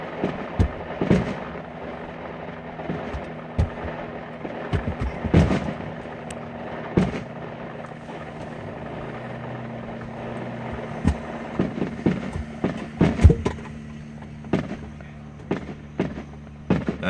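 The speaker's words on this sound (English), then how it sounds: "That's the finale right there, I think." A fairgrounds fireworks finale, a rapid string of sharp bangs and booming bursts, some crackling, over a steady low rumble of the crowd at a distance, with the pops clustering thickly toward the end.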